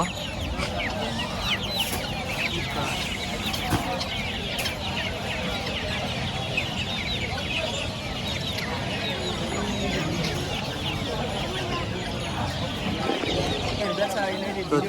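Guinea fowl chicks at a busy bird market, a continuous chorus of small clucks and chirps under crowd noise and nearby talking voices.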